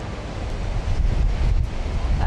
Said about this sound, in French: donc en effet il y a bien du vent